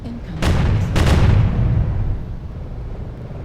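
Incoming missiles in a MechWarrior battle hit in two loud, close blasts about half a second apart, each followed by a rumbling low-end decay that fades over the next two seconds.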